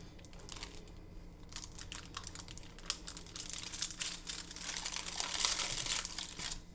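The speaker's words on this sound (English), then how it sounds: "So I'm going to unroll it carefully and slowly." A cooled pumpkin roll is being unrolled carefully and slowly, giving soft, steady crinkling and rustling that swells slightly toward the end, with no voices.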